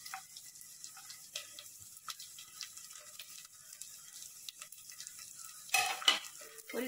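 Dry fruits, a cardamom pod and a cinnamon piece fry in melted ghee, giving a faint steady sizzle with scattered scrapes and clicks of stirring, then a louder burst of scraping and clatter near the end.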